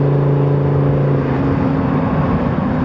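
A Lamborghini engine with a DCT gearbox hums and rumbles steadily inside the car, a loud continuous drone with strong low tones that shift pitch partway through, heard alone without talk.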